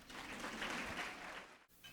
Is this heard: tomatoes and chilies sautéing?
no